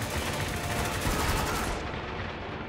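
Automatic weapons rattle in the war shooter Spec Ops: The Line, a steady, fairly distant stream of rapid gunshots that runs for about three seconds before the top end cuts off.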